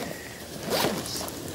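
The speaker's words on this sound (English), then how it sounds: "I'll never find a zip on this thing." A single quick zipper pull on clothing, close and fairly quiet, a short rasping zip lasting under a second.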